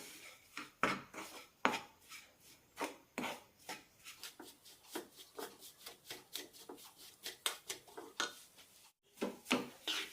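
Gram flour roasting in ghee over a low flame for besan laddu, stirred with a utensil that scrapes and taps the pan in a steady, close rhythm of short strokes, with a brief pause near the end and no talking.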